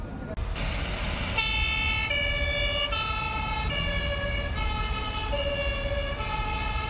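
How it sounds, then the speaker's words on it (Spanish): A fire engine siren wails steadily in a busy city street, its rising and falling tones sounding loud and continuous over a heavy rumble of traffic, with no voices. "Eso fue el camión de los bomberos, que es un sonido que es diferente a todos los otros sonidos."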